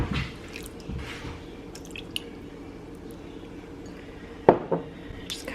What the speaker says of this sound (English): we're gonna pour some Jacks on here